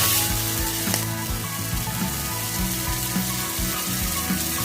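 Chopped tomato frying with onion in a hot pan for samosa chaat: a loud, steady sizzle and crackle close up, with faint stirring clinks and a low background hum, no speech.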